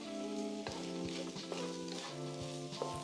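Rice, shrimp and other ingredients tumble into a hot frying pan for Chinese-style shrimp fried rice made with day-old rice. The sizzle is steady and close, with a few soft clanks from stirring and no talking.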